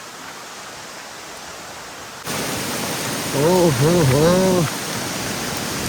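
Waterfall on the path toward the Kondhana river near the Kondane caves in Karjat, water coming down with force as a loud broadband rush that swells in about halfway through, while someone talks over it.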